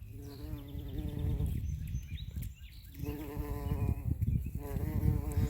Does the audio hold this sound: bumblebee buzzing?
yes